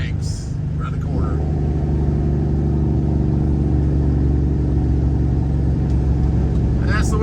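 A semi truck's diesel engine rumbles steadily at highway cruising speed, a constant low drone filling the cab, with a voice speaking briefly over it.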